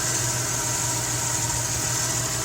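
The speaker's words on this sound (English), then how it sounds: "We have a nice running engine." A repaired Toyota 3.4-liter engine idles steadily up close, a continuous low hum with a faint mechanical rattle and no other sounds.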